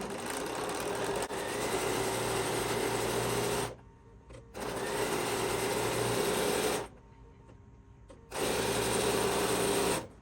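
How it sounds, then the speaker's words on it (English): A sewing machine stitches a quilt-block pillow seam in three close, steady bursts of rapid whirring, separated by brief pauses. "we will go ahead and sew down on this other side"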